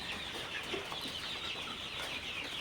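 A flock of Sonali super hybrid chickens on a farm clucks softly and steadily, a faint continuous murmur of many birds with no voices over it.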